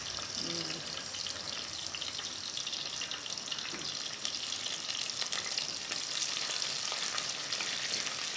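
Curry leaves sizzling in hot oil in a clay pot while cooking a prawn curry, a steady close crackling hiss with light stirring clatter, no talking.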